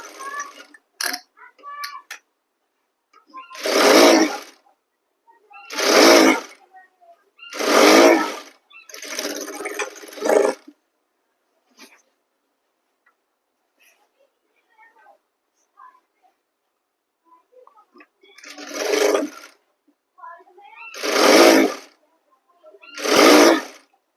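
A sewing machine runs in short bursts, stitching a strip along a suit sleeve, with repeated rapid stitching runs separated by pauses and bits of light handling noise.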